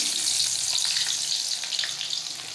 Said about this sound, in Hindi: अब जनाब ये हमारा तेल हो गया गरम। अब इसमें ये हम प्याज डालेंगे